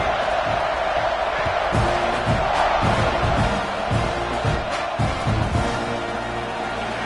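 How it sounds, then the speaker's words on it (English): Football stadium crowd at a Miami versus Texas A&M game roars steadily at kickoff, a dense, sustained wash of cheering with scattered louder surges, broadband and continuous throughout. "this crowd now ready to get behind them"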